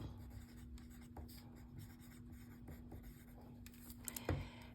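Pencil writing on a paper worksheet in a quiet classroom, a soft, steady scratching that runs throughout, with a slightly louder scrape near the end.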